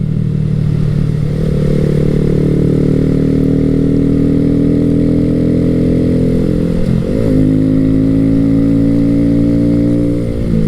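A Honda Grom 125 motorcycle, the original 2014-2016 model, rides along open back roads with its small single-cylinder engine droning steadily, loud and close. The pitch shifts around a gear change midway and then holds a constant cruising hum.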